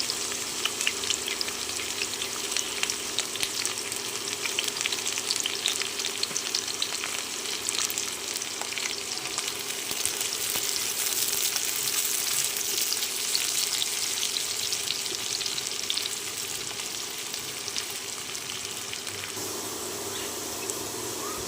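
Chopped onion sizzles with fried potatoes in hot oil for a fish curry, a dense crackling hiss that runs close and steady throughout with faint stirring scrapes and no talk.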